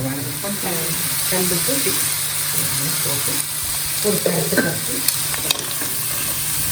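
Goat head meat sizzles and is stirred in a masala for Kongu-style curry, a steady close frying hiss with scraping stirs and occasional clinks, with a voice talking at times.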